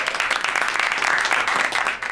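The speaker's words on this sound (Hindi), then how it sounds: "जोरदार तालियां हो जाए सभी कंटेस्टेंट्स के लिए" A studio audience bursts into loud applause for contestants on a competition show, dense continuous clapping that fills the space and holds steady throughout.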